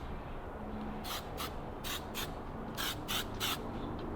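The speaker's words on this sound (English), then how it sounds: "Working the spray can like a true artist that he is." Repeated short bursts of a spray paint can hiss in quick succession over a steady background rumble, close by and fairly loud, with no talking.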